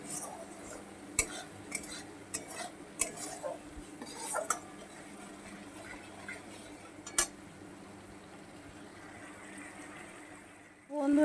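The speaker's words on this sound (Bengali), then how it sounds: "এবার সুন্দর করে আমি কষিয়ে নেব।" A spoon stirs and scrapes a spiced Malabar spinach stalk curry with potato, pumpkin and lentil dumplings in a pan, giving scattered clinks and scrapes over a faint sizzle, fairly quiet and close, ending with a brief louder clatter.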